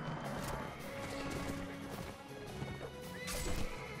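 In the video game Mount and Blade Warband, a horse whinnies loudly amid clattering hooves and battle crashes, with the neigh standing out over a busy, continuous din.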